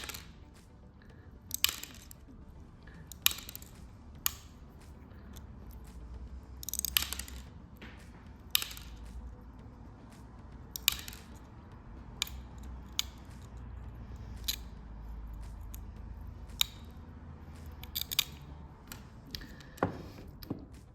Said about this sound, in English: I am cutting away the bit of the tile that I don't want.